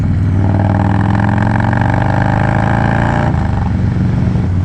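A Harley-Davidson motorcycle engine runs close and loud with a steady, throbbing low rumble, shifting slightly toward the end, with no one talking.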